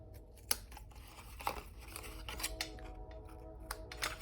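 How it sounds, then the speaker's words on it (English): Craft snips cut through paper for an easel calendar project, making a series of crisp, close snipping clicks at irregular intervals over a faint rustle of the paper. "remember to come back through with our snips and we'll cut that again."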